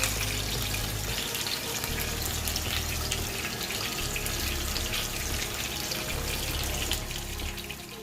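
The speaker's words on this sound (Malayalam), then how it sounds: "ഫിഷ് നമ്മൾ ഫ്രൈ ചെയ്യാൻ വേണ്ടിയിട്ടിരിക്കുകയാണ്." Pearl spot fish (karimeen) frying in a pan, a steady close crackle and hiss that runs throughout with no voices.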